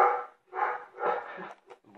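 A dog barks three times in quick succession, fairly close, followed by a couple of shorter, softer yips.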